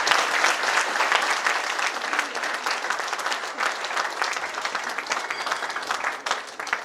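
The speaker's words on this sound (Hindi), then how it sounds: "बजाइए ताली" An audience claps at a company sales meeting, producing sustained, dense applause at moderate volume that holds steady for several seconds with no talk over it.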